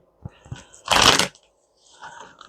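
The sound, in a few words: shuffling a deck of cards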